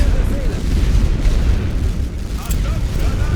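Grenades exploding in the war video game The Great War: Western Front, dense rumbling booms and bursts rolling continuously and loudly, with someone talking over them.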